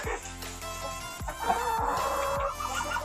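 Laying hens cluck inside a freshly cleaned chicken coop, several birds calling in overlapping bursts close by, with low thumps underneath.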